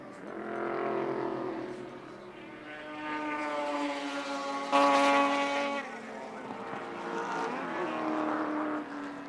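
Touring cars racing at Wanneroo Raceway in 1983, engines wailing and shifting pitch as they sweep past, swelling to a loud close pass midway and then fading, with a faint voice underneath.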